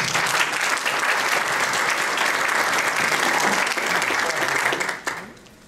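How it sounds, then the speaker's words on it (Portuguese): A room full of people gives a colleague steady, dense applause for about five seconds before it cuts off abruptly into near quiet. "Quero uma salva de palmas para o nosso colega Dade."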